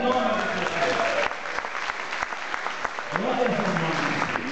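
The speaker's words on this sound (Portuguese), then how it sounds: "levante a mãozinha e aplauda o Senhor aí em nome de Jesus" A church congregation applauds during worship, steady dense clapping filling the space with a voice and music-like tones running underneath, the clapping continuing throughout.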